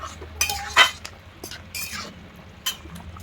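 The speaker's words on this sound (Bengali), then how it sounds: "ওকে দেওয়ার পর একটু নাড়াচড়া করে দিচ্ছি" Pointed gourd and prawn curry stirred in a pan: a utensil scrapes and clinks against the metal in several short bursts, over a faint low simmer, with no talking.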